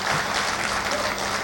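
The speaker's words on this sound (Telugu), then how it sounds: "సరే గట్టిగా చప్పట్లు" A hall audience at a speech bursts into loud applause, steady dense clapping that stays level for the brief moment.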